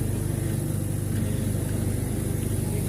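A Toyota Corolla engine with an idle fault runs at a steady, rapid low throb, a continuous close mechanical drone with an even pulsing rhythm and no voices.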